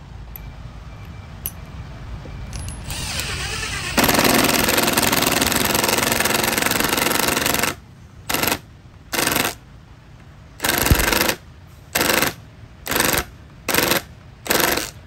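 A Milwaukee-style 2953-20 cordless impact driver runs in mode 1, first a loud continuous whir, then a series of short sharp hammering bursts separated by brief pauses, close up.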